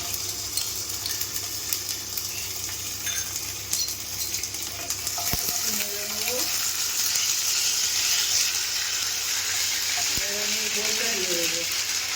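Whole dried red chilies and black peppercorns tempering in hot oil, with ginger paste then added to the pan, a loud continuous hiss and crackle. A few sharp clinks from a spoon or utensil cut through the frying.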